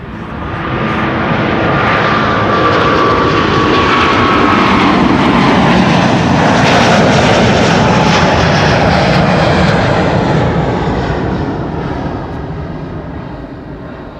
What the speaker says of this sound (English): the A350 is also spooling up and coming this way